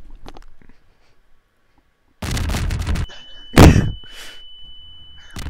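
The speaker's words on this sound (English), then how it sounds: "Explosion!" A Garry's Mod explosion goes off as one loud, close broadband boom with a ringing tone trailing after it, following a short burst of harsh noise and some quieter thumps earlier on.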